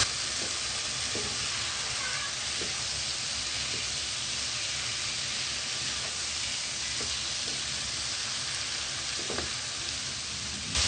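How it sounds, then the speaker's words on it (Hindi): Boiled urad lentils (mash dal) fry in oil in a pan, giving a steady, even sizzle throughout, punctuated by occasional soft clicks of a spoon stirring. "दाल को हम अच्छे तरीके से भूनेंगे।"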